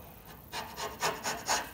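A sharp chisel scraping dried polyurethane off English oak, about four quiet rasping strokes in a short, even rhythm, heard alone.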